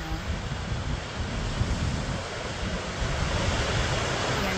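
Ocean surf at The Bluff lookout, Victor Harbor, South Australia, a continuous broad wash of breaking waves mixed with gusty wind buffeting the microphone on a windy day.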